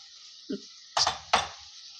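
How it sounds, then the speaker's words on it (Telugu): A spoon stirs potato rice mixed with curd in a pressure cooker, giving a soft knock followed by two sharp metallic clinks against the pot, close by and quiet with no voices. "ఇలా మంచిగా బాగా కలపాలండి"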